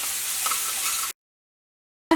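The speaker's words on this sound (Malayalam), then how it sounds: "ഇഞ്ചിയും വെളുത്തുള്ളിയും ഒന്ന് മൊരിഞ്ഞിട്ടുണ്ട്." Ginger and garlic fry in hot oil in a pan, sizzling briskly for about a second, then the sound cuts to silence before a short burst of noise.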